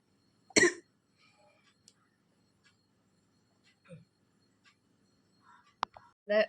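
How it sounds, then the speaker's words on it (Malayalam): One sharp cough near the start, then quiet with small scattered clicks and shuffles, followed by a few more short throat noises at the end. "ചുമ വന്നു"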